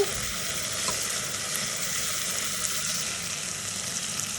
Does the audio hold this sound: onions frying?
yes